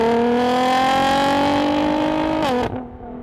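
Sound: tuned 700 horsepower Nissan GT-R R35 engine revving

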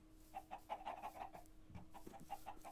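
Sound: chickens clucking in Minecraft video game

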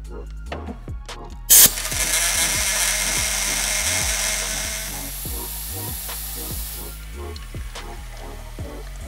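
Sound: shop compressed air blown through an oil filter fitting

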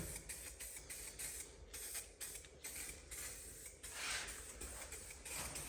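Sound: spray paint can spraying markings on a Willys jeep

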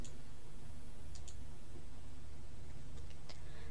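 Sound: mouse click on a software create button

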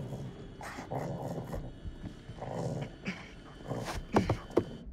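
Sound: dog growling and barking in a video game

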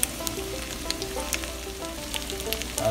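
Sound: green onions sizzling in pan with tofu

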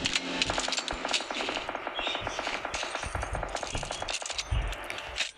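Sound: weapon reloading in a video game

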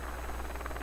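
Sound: drone buzzing in the video game Rainbow Six Siege

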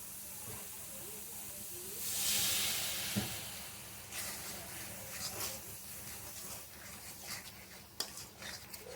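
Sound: water added to frying spice masala, sizzling hiss

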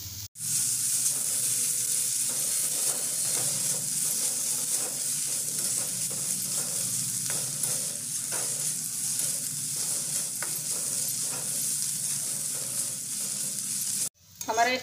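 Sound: stirring paneer vegetable momo stuffing in a pan

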